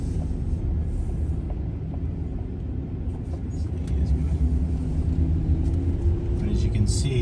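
Steady, distant traffic rumble from Interstate 84 beside a Walmart parking lot, a continuous low roar of passing cars and trucks throughout.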